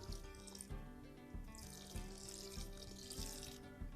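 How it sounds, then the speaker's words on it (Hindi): Water is poured into a pot of chicken curry in a short, quiet splashing trickle with faint rhythmic clinks. "अब इसमें थोड़ा सा पानी लगाना है।"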